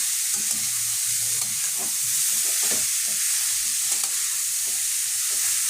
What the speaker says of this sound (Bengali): গ্রেট করা গাজরটা ভালো করে ভেজে নেব ঘিয়েতে দেওয়ার পরে।